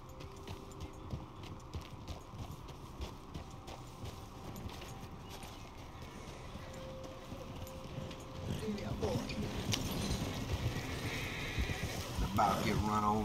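Hooves clip-clop steadily from a horse ridden in Red Dead Redemption 2, a continuous rhythmic trot under game ambience that grows louder and busier toward the end, with a person talking over it.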